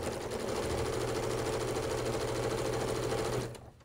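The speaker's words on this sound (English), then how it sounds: "I'll just backstitch right there to hold that in place." A sewing machine backstitches a seam on a pinwheel quilt block, running as a steady, close, rapid mechanical whir for about three seconds before stopping abruptly.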